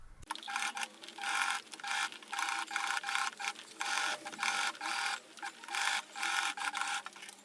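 A sewing machine topstitches through a handbag's seam allowance, running in steady bursts of rapid stitching with short pauses between runs, close and clear with no talking.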